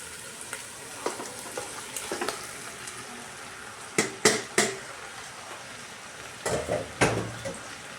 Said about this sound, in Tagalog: nilagay na yung langka. Hinalo na doon sa ginisang pork.